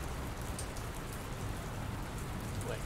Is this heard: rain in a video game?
yes